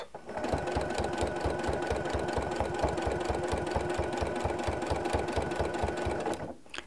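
A sewing machine stitches binding onto a quilt, running steadily and closely with a fast, even mechanical rhythm that stops abruptly at the end.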